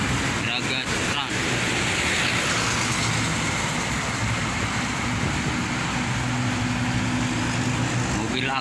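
Road noise from a traffic jam on the Cipali toll road during the Christmas and New Year holiday: a steady, loud rumble of car and bus engines and tires close by, with a low hum running throughout.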